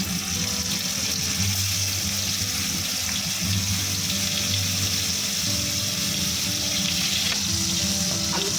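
Green plantain and potato frying in fish oil with nigella seeds, a dense, steady sizzle that stays loud and unbroken from start to finish, close by with no voices.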